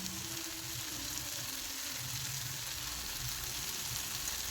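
Raw banana and chana dal thoran is stirred in a hot pan, producing a continuous soft sizzle with low scraping movements underneath, steady and close.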